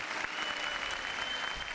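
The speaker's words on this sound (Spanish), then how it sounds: "Igual un aplauso para..." A brief burst of clapping on a podcast, quiet and even, lasting under two seconds.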